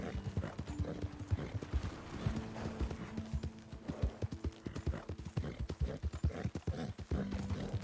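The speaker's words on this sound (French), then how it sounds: "on va changer de cheval, on va prendre l'autre petit cheval." Horse hooves clip-clopping in Red Dead Redemption 2 on PS4, a steady rhythmic walking gait close up, with occasional soft snorts and faint background tones.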